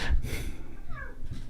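A cat gives one short, close meow that rises and falls, with some low indoor rumble underneath.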